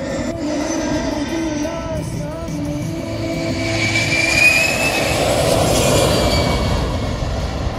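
Aircraft engines drone at the Piešťany 2022 air festival, a broad roar that swells gradually as a plane passes at moderate distance, heard alone without talk.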